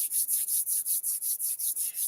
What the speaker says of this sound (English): So I want you to rub your hands together